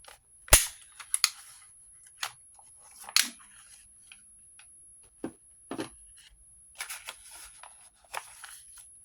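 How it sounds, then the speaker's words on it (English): A stapler punches a staple through a paper pocket in a junk journal, one sharp loud snap followed by scattered quieter clicks, paper rustles and handling taps, close up with no talking. "I'll just put one staple there for that."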